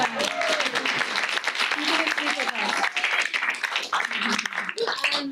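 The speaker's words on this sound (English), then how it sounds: "So a big round of applause" Applause from an audience at a journalism award event mixes with voices talking and calling out throughout, the clapping dense and fairly loud under the chatter.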